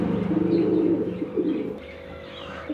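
Pigeon cooing at close range inside a pet shop, a low rolling coo lasting about a second followed by softer murmuring notes and faint background chatter of other birds.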